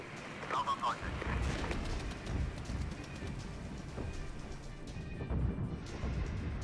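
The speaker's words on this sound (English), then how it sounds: "we are going to go and hit them with rocket artillery" Grad rocket artillery fires in the Regiments war game, a dense, continuous roaring rumble with scattered crackling bursts that fills the whole stretch at a steady, moderately loud level.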